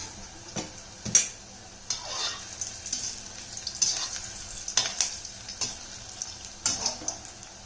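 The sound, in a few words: Chinese potato sticks frying in hot oil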